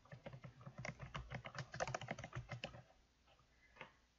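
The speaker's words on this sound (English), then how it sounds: "When I go to type this in, I'll type in the author's last name" Keystrokes on a computer keyboard as an author's surname is entered into a citation tool, a quick, uneven run of close, crisp taps for about three seconds before trailing off into a few scattered presses.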